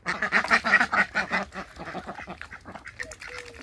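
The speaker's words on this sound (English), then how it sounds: "the ducks are saying, hey, you're near us. Come give us some leaves." Ducks in a backyard summer garden quack in a rapid, loud, clustered series near the listener, tapering into fainter, sparser calls toward the end.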